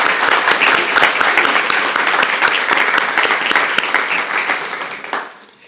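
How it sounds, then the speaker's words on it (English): Audience at a school awards ceremony claps in sustained, dense applause, loud and even throughout, fading out at the very end. "let's give her a round of applause"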